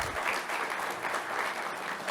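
Audience applause at a university talk on artificial intelligence, a dense steady wash of clapping from a crowd that holds evenly throughout without breaks.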